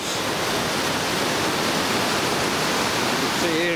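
Powerful surge of water rushing down the stepped fish pass at Topcliffe weir, a steady, loud, close roar with no break.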